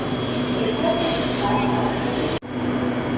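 Interior rumble of an SRT Red Line electric commuter train running between Rangsit and Krung Thep Aphiwat, a steady loud hum with faint tonal whine, briefly cut by a sharp dropout near the end before the drone resumes.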